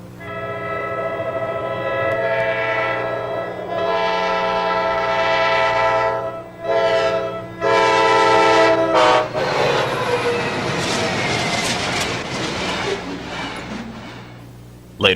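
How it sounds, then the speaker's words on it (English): A westbound manifest freight train in Garry's Mod speeds over a grade crossing, its horn sounding in long sustained blasts with short breaks, then the roar and rumble of wagons rushing past up close. "A westbound manifest caught us by surprise as it sped over the crossing."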